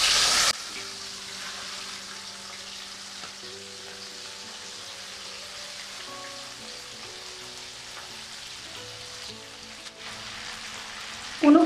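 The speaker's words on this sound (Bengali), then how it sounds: "চিংড়িটা তেলের মধ্যে নিয়ে নিচ্ছি" Prawns fry in hot oil in a pan under a lid, a continuous close hiss and crackle holding at an even level throughout, with a faint tonal hum in the background and no talk.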